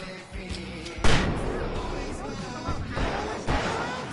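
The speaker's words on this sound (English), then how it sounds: "I can set off more of the fireworks from here and help you out!" Fireworks bursting in the Alan Wake Remastered video game, with a sharp loud blast near the start and further booming pops mixed under game voices and action noise.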